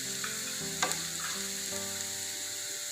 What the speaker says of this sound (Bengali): খুব বেশি ভাজতে হবে না।